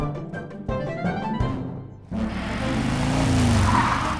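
A cartoon race car engine roars with skidding tires, starting with choppy revving bursts before breaking into a loud continuous whine and screech, with no speech.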